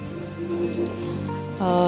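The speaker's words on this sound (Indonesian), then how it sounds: "terdengar suara gemercik air karena di luar sedang hujan" Rain falling outdoors with a steady patter and splashing of water, continuous and moderately loud, ending in a brief tonal sound.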